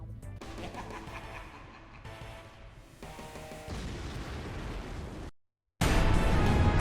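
Gunfire in the video game Escape from Paradise City, a run of booming, crashing shots and bursts that cut to a sudden moment of silence before a loud blast of noise.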